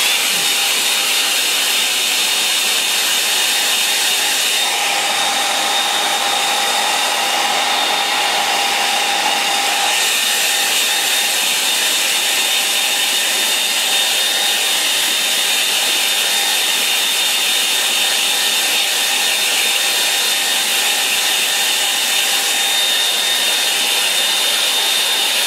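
A hair dryer blows without a break over a line and wash painting, a loud, close and steady whoosh with a high motor whine that holds for the whole stretch, with only a slight shift in tone partway through as it moves.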